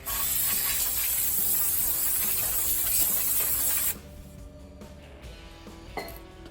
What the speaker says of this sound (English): get it nice and clean with some brake parts cleaner